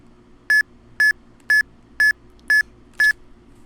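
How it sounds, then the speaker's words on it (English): Six short, identical electronic timer beeps at a steady half-second pace, clear and close against quiet background hum, during Pokémon HeartGold or SoulSilver play. "I will hit the 4th button when this timer beeps"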